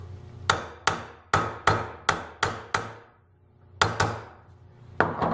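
Metal hammer peening over the cut-off end of a bolt fitted to a retracting caster on a tool chest: nine sharp, ringing strikes in two bursts, close and loud, with no talk.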